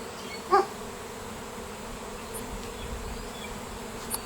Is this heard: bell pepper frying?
no